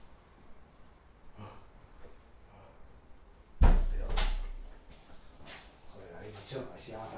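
A door at a grandmother's house bangs open with a sudden loud knock and rattle, followed by scraping and shuffling; quiet murmuring comes before it and voices afterward.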